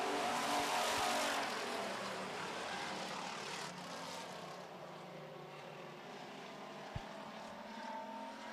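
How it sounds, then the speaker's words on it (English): Race cars roar together after the green flag at a short-track feature race, a loud broad engine rush that slowly fades as the pack pulls away, with a sharp bump near the end. "Green flag, we're racing"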